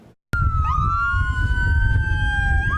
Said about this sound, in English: Sirens sounding as ambulances cross onto U.S. soil